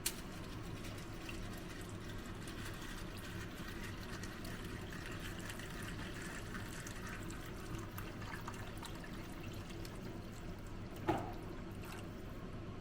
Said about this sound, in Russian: И теперь мы берем воду, и нам надо воды налить до нашей шкурочки.